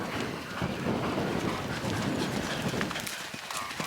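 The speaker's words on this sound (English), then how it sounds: "Oh, horse coming." A horse galloping uphill on an eventing cross-country course past a steeplechase fence, a dense drumming of hoofbeats with steady outdoor noise and faint voices.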